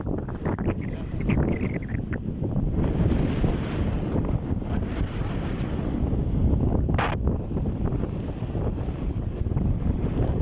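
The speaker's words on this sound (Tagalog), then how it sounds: "Lakas ang hangin." Strong, steady wind buffets the microphone in a continuous roar, with faint water and a few brief voices mixed in.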